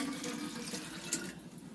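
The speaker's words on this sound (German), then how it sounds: "Und so füllen wir uns Wasser ab." Water is poured from a roadside water barrel into a small cup in Myanmar, a faint, brief trickling and splashing heard close up with no talk.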